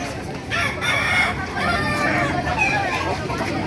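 A rooster crows loudly with clucking chickens nearby, set against a busy crowd murmur of voices at a chicken market in Baliuag, Bulacan, Philippines.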